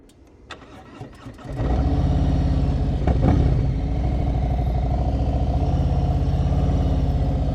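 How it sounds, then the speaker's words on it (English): A motorcycle engine is held loaded at low revs during slow-speed riding in the friction zone; after a quiet start it settles into a loud, steady, close drone with small surges. "Listen to my RPMs, keeping it loaded the whole time."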